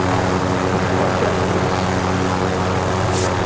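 A Call of Duty helicopter roars as a loud, steady rotor and engine drone, dense and continuous throughout, with no break in the sound and no talking.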